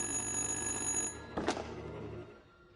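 Telephone ringing in the horror video game Little Hope, a steady electronic ring tone sustained for about a second, then cut off by a sharp thunk as the receiver is picked up, leaving a quiet hum.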